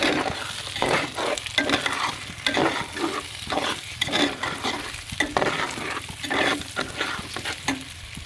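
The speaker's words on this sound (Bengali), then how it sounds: "এখন চালটা আমি পোলাউর চালটা সুন্দর করে ভেজে নিব" Polao rice seasoned with salt frying in a pan, stirred steadily: a continuous close sizzle broken by regular scraping strokes of the spoon, with no talking.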